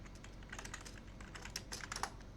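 Typing on a computer keyboard while coding a Python desktop assistant, a quiet, uneven patter of key clicks with a few sharper taps near the end, no talk.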